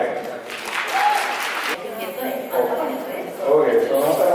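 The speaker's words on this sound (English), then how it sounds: "So thanks to all of them. Big applause," An audience applauds at a spring festival event, with clapping running under a voice talking through the whole stretch.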